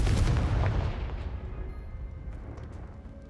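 A Confringo blasting spell in Hogwarts Legacy bursts in a heavy booming explosion that rolls into a fading, crackling rumble over a few seconds.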